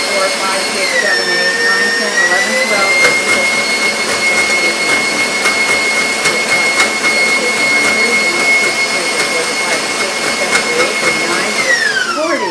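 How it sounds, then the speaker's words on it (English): An electric hand mixer beats whipped cream on high speed, giving a loud, steady whine with a high motor tone that climbs as it starts and drops away as it shuts off, with a faint voice counting beneath it. "I'm going to put it on high speed and count approximately 40 to 50 rotations of the beater, of the mixer"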